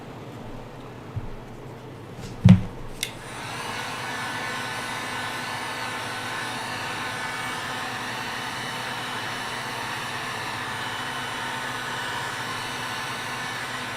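Steady hot-air blast from a heat gun working on trimmed ears of a Jersey Devil piece, starting after a couple of brief knocks and clicks, then holding as a constant whooshing hiss close to the mic.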